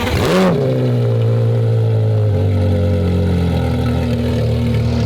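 A powerful car engine fires up with a sharp rev, then settles into a loud, rumbling idle close by.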